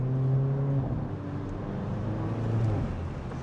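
Mercedes CLA 45 AMG engine humming steadily with a slight rise in revs, heard from inside the car at moderate level; no distinct exhaust pops stand out.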